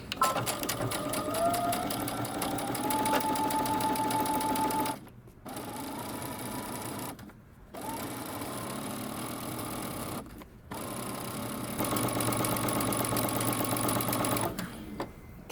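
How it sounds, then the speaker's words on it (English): Sewing machine stitching around the seam of paper bag drop crotch pants: rapid, steady mechanical whirring in three bursts separated by short pauses, fairly close, with no talk over it. "following your stitching line, you're going to stitch all the way around"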